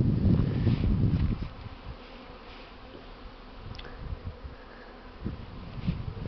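Honey bees fly out of their hives on a mild winter day before the main overwintering, a steady outdoor buzzing hum with some low wind rumble early on and a few louder passes near the end.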